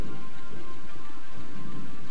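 Steady, loud rainfall from the game Tenchu Wrath of Heaven, a continuous dense hiss of drops with no voices over it.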